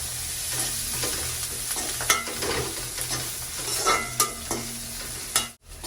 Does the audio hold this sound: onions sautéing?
yes